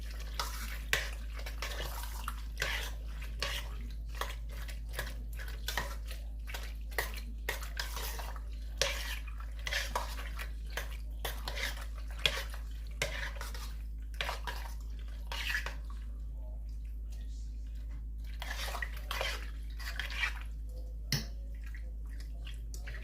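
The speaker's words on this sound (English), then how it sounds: "Give it a good stir." A spoon stirs a macaroni and cheese mixture with butter in a pan, giving soft, repeated clicks and scrapes over a low steady hum. The sounds are faint and close, with no talking.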